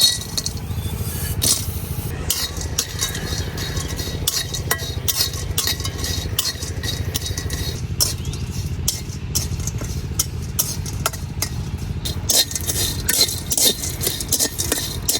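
Dried shrimp fry in a pan in a home kitchen, a steady loud sizzle broken by frequent clinks and scrapes of a spatula against the metal, with no talking.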